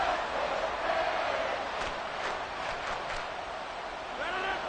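Stadium crowd noise from a Madden football video game: a dense, steady roar of a large crowd with faint whistles and cheers rising through it, loud and continuous without a break.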